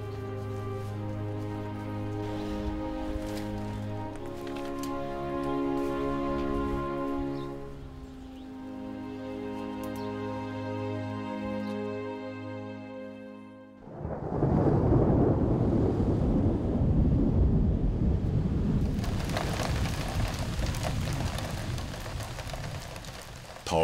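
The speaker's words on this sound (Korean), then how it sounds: "더위를 달래줄 시원한 소나기가 내립니다" A cool summer rain shower falls in Hwarim village, bursting in suddenly after a stretch of gentle music. The loud, dense patter continues steadily for about ten seconds with no voices.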